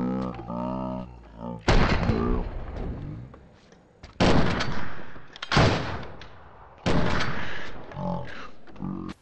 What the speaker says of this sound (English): He just shot a zombie, I think.